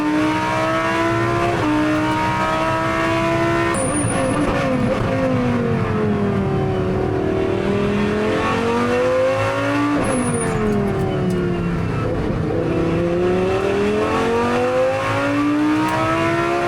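A Lamborghini GT3 race car laps a circuit while chasing a Ferrari, its engine screaming loudly and continuously from onboard, revs sweeping up through the gears and dropping under braking, with brief high whines between shifts.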